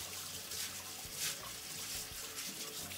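Sprouts rinsed under a running kitchen tap make a steady, soft hiss and splash of flowing water with faint irregular patters, heard alone and fairly quiet.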